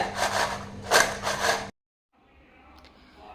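Freshly fried sweet sesame seedai, crisp Tamil snack balls, rattle and clatter in a dense, close, rough burst for under two seconds, then go quiet except for faint handling noise.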